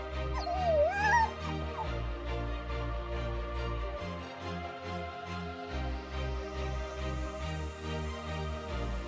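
A beloved dog whimpers and yips at its reunion with a young boy after being lost in an Oklahoma tornado, giving high, wavering cries early on over a steady background of music.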